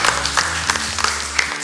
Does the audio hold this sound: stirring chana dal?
no